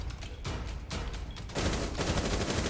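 Gunfire in the video game Rainbow Six Siege comes in several rapid bursts of close, sharp shots separated by short gaps, then builds into a denser, sustained volley toward the end.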